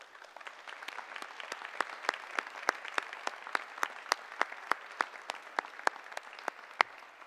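An audience at a high school awards ceremony claps for the awardees, a steady run of close, sharp, evenly spaced claps that carry on throughout with no voices.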